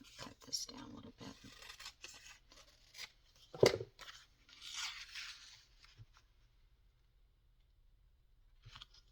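Scissors snip and rustle through paper for a junk journal in short, close bursts, with one louder crunchy cut, while a person talks softly over the work.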